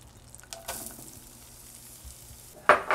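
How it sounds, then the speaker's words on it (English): Onions going into hot spiced oil for Indian butter chicken, a quiet background sizzle with scraping stir sounds, then a sudden loud hiss as they hit the pan near the end. "Now the oil is soaking up all that aroma. And I'm adding onions."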